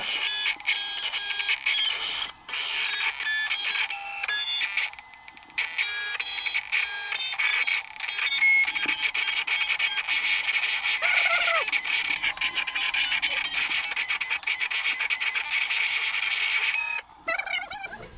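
A vinyl cutting machine cuts out letters, giving a steady high-pitched whirring and whining with frequent short stops, starts and changes in pitch, close by and with no talk.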